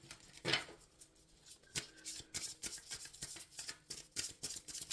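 Soft, close tarot card shuffling, with papery flicks and riffles repeating in quick irregular bursts at low volume.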